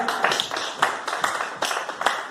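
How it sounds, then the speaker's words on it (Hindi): An audience at a devotional bhajan jaagran event applauds with brisk, steady rhythmic clapping that sounds close and dense, lasting a couple of seconds. "उनके लिए जोरदार तालियां।"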